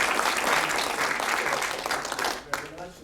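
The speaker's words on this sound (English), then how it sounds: "let's give General Weinstein a big round of applause" An audience at a fall symposium applauds General Weinstein, a steady wash of clapping that stays loud and dense before thinning out toward the end, with a sharp isolated clap near the close.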